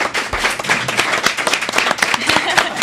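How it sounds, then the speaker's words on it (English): Conference audience giving a round of applause to a panel, lively crowd clapping with distinct sharp hand claps up close over a continuous roar of hands, brief and sustained. "Can you get a round of applause for this fantastic panel?"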